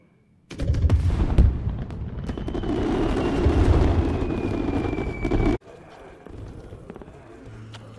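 In a film scene, fireworks burst inside a burning car as a loud, dense crackling roar of pops and bangs that runs for about five seconds and then cuts off abruptly, leaving quieter background sound.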